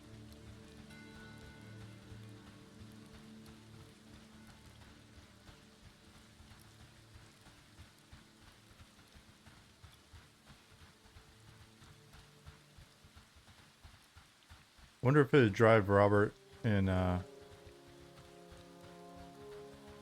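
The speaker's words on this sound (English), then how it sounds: "Seems like it's raining a lot in Night Harbor lately." Steady rain patters over Night Harbor in the indie MMORPG Monsters & Memories, a soft continuous wash under quiet ambient music, briefly interrupted near the end by someone speaking.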